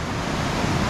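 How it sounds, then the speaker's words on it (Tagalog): Strong river current rushing beside a roadside, a dense, loud, continuous roar of churning water with wind noise and no talk. "Dahil may kalakasan ng alon."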